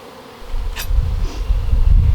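Honeybees hum and buzz closely in a hive in a low, rumbling drone, with a brief higher buzz passing near the microphone.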